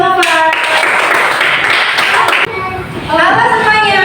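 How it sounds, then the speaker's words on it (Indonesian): An elementary class claps for a pupil named Nova, with a burst of quick claps close by under children's voices and a teacher's voice, then a brief lull before talk resumes. "Tepuk tangan lagi buat Nova."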